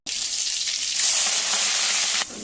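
Mustard seeds and cumin hit hot oil in a pan and burst into a loud, bright crackling sizzle that builds and then drops off suddenly near the end, with no one talking.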